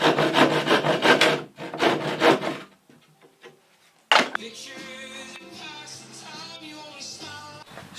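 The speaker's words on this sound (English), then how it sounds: "so I'm just going to cut where the frame line is" Saw cutting a plywood floor sheet along a frame line in a van conversion, rough rasping strokes up close, a pause, then a scraping, squeaky stretch as the cut continues.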